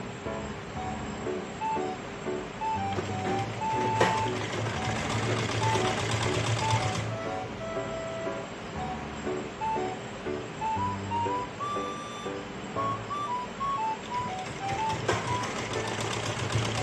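A sewing machine runs steadily for a long stretch, stitching a stand collar onto a blouse, its close mechanical whirr and rapid needle rattle rising and pausing in short bursts.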